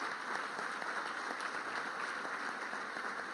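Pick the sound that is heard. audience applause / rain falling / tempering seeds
audience applause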